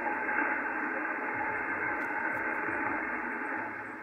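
Amateur radio station received on a Yaesu FTdx5000MP transceiver with digital noise reduction switched off: a steady hiss of static and band noise with a faint, muffled voice buried underneath, constant throughout.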